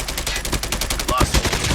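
Rapid machine gun fire rattles in a video game, a loud close burst of evenly spaced shots across the short stretch.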